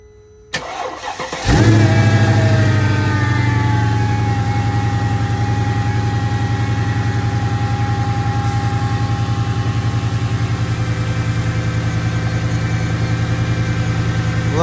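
A Mercedes-AMG M113 V8 engine cranks and fires up with a sharp catch, then settles into a loud, steady idle with a deep, even rumble that continues to the end.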